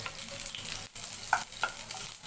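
Onions frying in hot oil for chana masala, a close, fairly soft sizzle with a few metallic stirring clinks and one brief pause, no voices.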